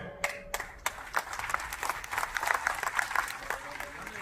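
Scattered crowd clapping at a political party meeting, sharp individual claps rising into a loose patter of applause, fairly faint, with speech coming through near the start.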